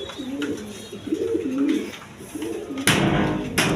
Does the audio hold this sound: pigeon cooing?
yes